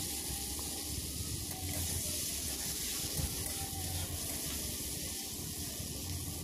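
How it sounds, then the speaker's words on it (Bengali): Steady soft sizzle of spices and vegetables frying dry in a pan over a low flame, continuous and fairly quiet, with faint scraping throughout and no talking. "এইভাবে আমি শুকনো অবস্থাতেই সবজির সঙ্গে মশলাটা ভেজে নিচ্ছি"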